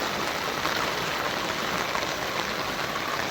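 Heavy rain falls in an even, hissing wash of drops, continuous and fairly close, on a farm in Gujarat, India, with no talking.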